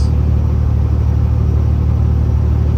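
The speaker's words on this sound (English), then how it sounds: "My old trailer, my old truck, pulling the flatbed." An old truck pulling a flatbed trailer gives a loud, steady low engine rumble and road drone, close and unchanging throughout, with no talk.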